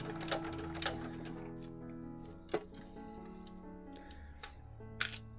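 Sewing machine stitching a bag strap, a quiet mechanical whir with a few sharp clicks and knocks scattered through the run.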